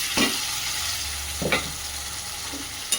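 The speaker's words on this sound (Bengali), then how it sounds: "দিয়ে এটাকে আমি ভালো করে কষিয়ে নেব" Mango pieces with mustard, cumin and green chili paste sautéing in a pan, a soft steady sizzle with a few short scraping stirs spaced apart.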